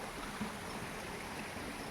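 Muddy water flows steadily down a hillside stream near an apple orchard, a constant soft rushing wash with no speech.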